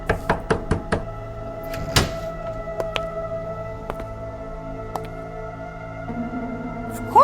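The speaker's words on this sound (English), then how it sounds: "someone knocked on the door" Knuckles rap on a hotel room door in a quick series of sharp knocks, followed by a few isolated taps and light movement in a quiet room.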